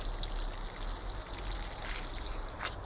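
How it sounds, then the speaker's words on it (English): Water pours steadily onto soil around a freshly planted horseradish in a garden bed, a continuous close trickling splash with no talk. "I'm watering it well in"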